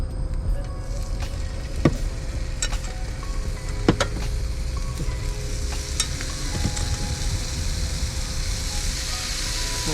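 Seasoned shrimp sizzle loudly and steadily on a hot grill, a dense crackling hiss broken by a few sharp pops and clicks as the pieces are set down.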